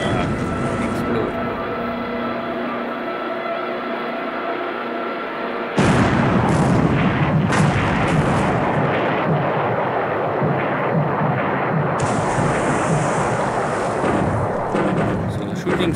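Torpedo explosions in the naval strategy game War in the Pacific, heavy rumbling blasts that begin with a sudden loud burst and roll on continuously, building again later, while a voice talks over them.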